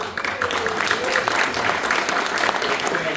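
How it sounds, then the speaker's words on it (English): Audience applause at a rugby alumni induction ceremony at a law school, a steady close burst of clapping from a crowd filling the whole moment. "Please stand and remain standing when your name is called to await the eventual applause."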